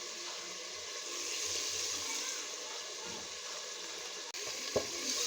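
Ginger-garlic paste is added to a pan of shrimp masala and sizzles softly and steadily in hot oil. The sizzle is quiet and close, with a small clink of a utensil near the end.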